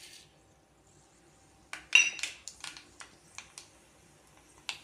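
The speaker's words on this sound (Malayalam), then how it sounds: "കടുക് ഒന്ന് നന്നായിട്ട് പൊട്ടി വരട്ടെ" Mustard seeds splutter in hot coconut oil in a clay pot after a quiet start, giving a string of sharp, close pops and crackles at irregular intervals.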